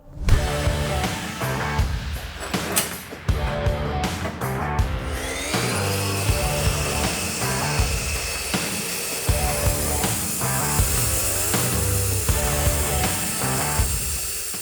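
A Vitals Master Gr 3525HL cut-off saw slices through a clamped metal profile, its motor whining loudly and steadily with a harsh grinding rasp that continues through the whole cut.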